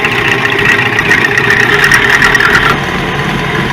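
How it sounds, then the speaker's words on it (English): An electric mixer whisks heavy cream into butter with a loud, steady motor whir and beater rattle, which eases off slightly near the end. "I'm going to go ahead and whisk this"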